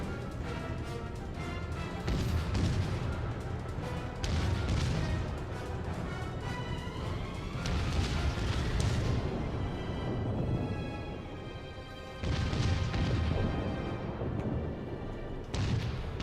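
German warship main guns firing in World of Warships, heavy booming salvos arriving in several loud bursts with rumbling decay between them, the battle noise dense and close throughout.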